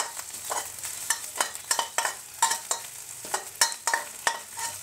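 Thai curry paste stir-fried in a hot pan for a barometer earthstar mushroom curry, with a steady sizzle broken by regular scraping strokes of a spatula, close and clear, with no talking.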